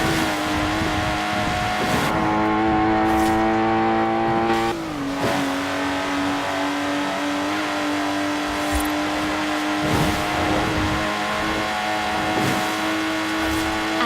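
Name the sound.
Lotus Exige sports car engine in Forza Horizon 4 video game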